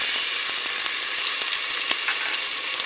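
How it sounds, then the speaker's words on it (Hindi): Garlic-ginger paste frying in hot oil in a pot for Punjabi curry, a steady close sizzle with scattered crackles and pops throughout, no voices. "कसूरी मेथी ऐड कर दी है, अब डालेंगे लहसुन अदरक का पेस्ट"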